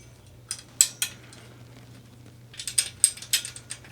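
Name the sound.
screws being put into serving cart top piece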